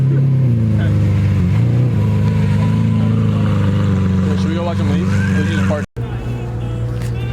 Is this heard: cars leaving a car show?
yes